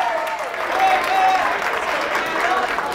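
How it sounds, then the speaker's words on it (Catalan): Studio audience on a Catalan TV quiz show claps steadily throughout, a dense even round of applause at moderate distance. "Un aplaudiment."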